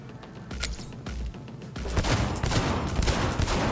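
Rapid gunfire in the video game Cyberpunk 2077, dense bursts of automatic shots with heavy low booms, growing louder and more continuous in the second half, with no talking.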